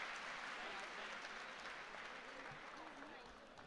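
An audience at a grand mushaira poetry gathering in Indore gives faint, distant applause, a soft continuous patter of many hands with murmuring voices underneath that slowly eases off.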